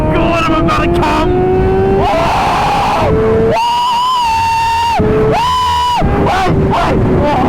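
A Kawasaki ZX6R motorcycle engine revs loudly and close by, its pitch climbing and dropping in sharp bursts through the downshifts, while voices shout nearby.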